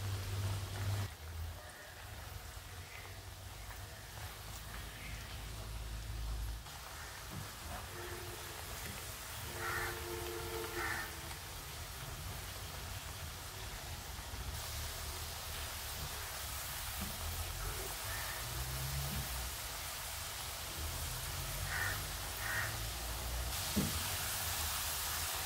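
Homemade potato chips frying in oil first heated on high, then kept over a medium flame: a steady, faint, rain-like crackling hiss running throughout with occasional small pops, no voices.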